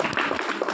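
A brief burst of hand clapping in a church during a scripture reading, a quick patter of several people clapping together for under a second.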